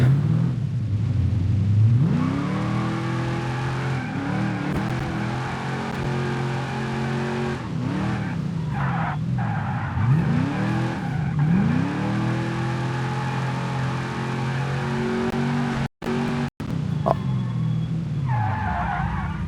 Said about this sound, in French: c'est reparti pour refaire du drift